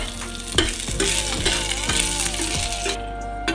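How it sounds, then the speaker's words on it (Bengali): Mint leaves fry in a pan with a loud, close, continuous sizzle, broken by regular clinks and scrapes of a spoon as they are stirred. "এবার আমি পুদিনা পাতাটা ভেজে নেব।"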